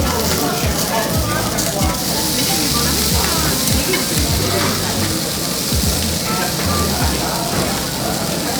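Hanwoo beef sizzling as it grills in beef tallow, a dense, crackling fry with rain-like spatter and occasional stirring or scraping, loud and close throughout.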